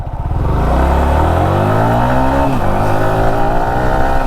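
A Yamaha R15 V4 motorcycle launches from standstill in first gear, its engine rising steadily in pitch as it revs and accelerates, loud and close, with a brief dip partway before climbing again.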